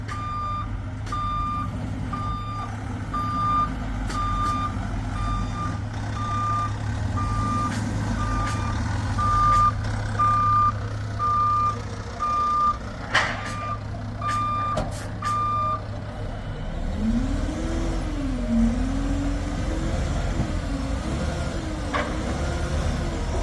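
A brand new dump truck delivering dirt reverses with a steady, loud, evenly pulsed reversing beep over its idling diesel engine, then the beeping stops and the engine note rises and wavers as it works.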